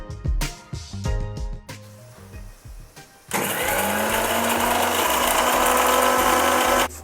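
A kitchen mixer grinds sautéed prawn thokku ingredients into a paste. A few short mechanical clicks and rattles come first, then the motor kicks in with a loud, steady whirring grind that runs to the end.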